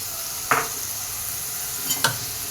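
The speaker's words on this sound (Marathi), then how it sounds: "आता हे छान परतून घेऊ आपण" Vegetables for Marwari-style khichdi are sautéed in a pan, with a low steady sizzle broken by two or three brief clinks of a spoon stirring against the pan, and no talk.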